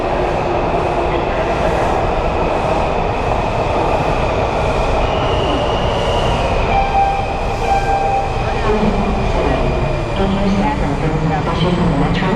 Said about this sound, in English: All right, let's get on this subway.